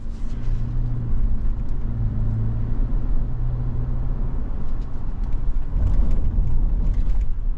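A 2024 Toyota Land Cruiser in base trim on 20-inch wheels pulls away, its engine a steady low rumble with road noise that swells slightly toward the end, with no talking.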